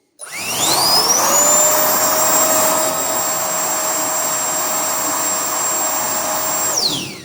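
A cordless ONEVAN leaf blower powered by a TP-Cell battery starts up, its motor spinning up to a loud, steady high-pitched whine and rushing airflow, holding for several seconds before winding down at the end.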